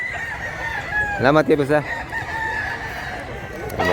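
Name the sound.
chickens and roosters crowing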